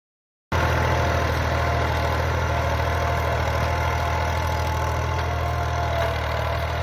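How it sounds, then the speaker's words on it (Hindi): A tractor engine runs steadily while pulling a maize seeder machine for corn sowing, a loud continuous low idling rumble with a faint knocking pulse that starts abruptly and holds constant, close by with no voices. "आज हम मकई की ज़रिया सीडर मशीन बिजाई का तरीका देखते हैं"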